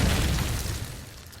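A grenade bursts in Call of Duty 4 on the Strike map, a single loud boom with a broad rumbling tail that fades over about a second.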